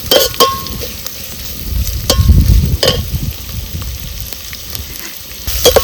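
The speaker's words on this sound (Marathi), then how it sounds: "कांदा सुद्धा चांगला असा आपल्याला भाजायचा आहे" Onion roasting in a hot pan for a village-style pavta rice dish, a steady loud sizzle close by with occasional sharp spatula scrapes and stirs against the metal.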